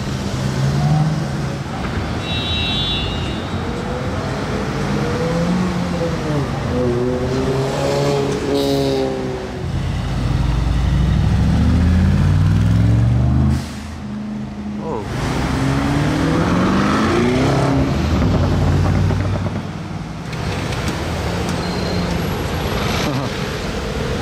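A red Porsche GT3 RS drives past on the road just below a high vantage point, engine note rising and falling as several passes and gear changes come through, loud and close, with some traffic noise around.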